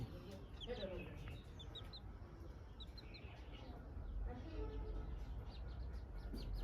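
Chickens cluck and chatter on a small home farm in winter sun, with a few sharp clucks and soft calls scattered through a fairly quiet, steady background.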